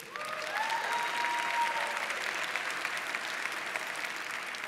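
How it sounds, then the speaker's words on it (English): Church congregation applauding, a steady wash of clapping from a large room that holds at moderate level throughout, with a faint tone briefly audible near the start. "That's worth a round of applause"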